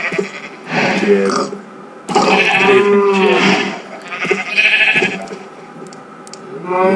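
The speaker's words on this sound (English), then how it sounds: "let's see what sheep give now" Sheep in the video game Minecraft bleating in several drawn-out calls, loud and close, mixed with a person talking.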